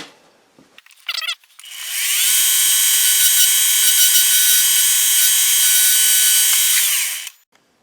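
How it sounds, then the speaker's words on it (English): A milling machine driving a 1/2 inch end mill 5/16 deep into metal for a spherical ball turner kit, a loud steady high-pitched whine of cutting that holds for about five seconds after a brief handling clatter, then stops. "I have a 1/2 inch end mill, and we're going to go 5/16 deep."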